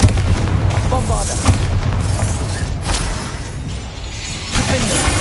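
Repeated heavy booming blasts from the Bombarda explosion spell in Hogwarts Legacy, loud and close, several bursts overlapping into a dense rumbling barrage.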